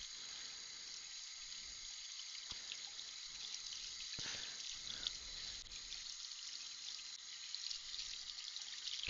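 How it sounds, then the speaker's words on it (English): Water runs steadily from a sink tap into steel bowls, a continuous close hiss and trickle with faint splashes and clinks over the length. "you can come and listen to the watery goodness of the sink."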